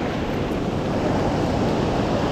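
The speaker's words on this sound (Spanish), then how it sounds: "Con la ola que viene ahí" An ocean wave washes up a beach in a steady, loud, broad roar of surf and foam, with wind noise mixed in throughout.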